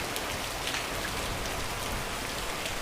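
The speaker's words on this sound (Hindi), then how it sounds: "अब ये बड़ी बड़ी बूंदें गिर रही हैं बारिश की।" Heavy rain with large drops falling on a village in Uttarakhand during a hailstorm, a dense, steady patter and hiss of drops striking surfaces, continuous and moderately loud with no voices.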